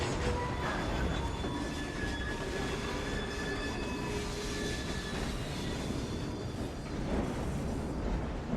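A steam train rolls along in the video game Assassin's Creed Syndicate, giving a steady, loud rumble of wheels and carriages with faint squealing tones throughout.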